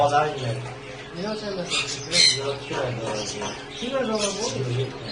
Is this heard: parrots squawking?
yes